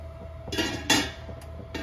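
Metal lid set onto a cooking pot of steaming corn chatpata, giving two or three close clanks and clinks, with a sharper knock near the middle and a lighter tap at the end, no voices.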